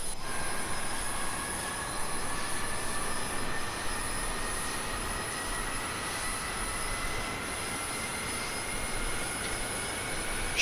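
An F-22 Raptor jet engine starts up at McChord Field, a continuous broadband roar with thin high whines running steadily across the whole stretch, with no voices.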